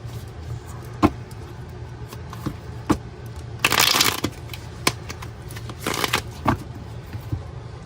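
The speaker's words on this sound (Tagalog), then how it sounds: "Balasahin po muna natin." Playing cards riffled and shuffled in two brief rustling bursts, with scattered taps and clicks around them against a low background hum.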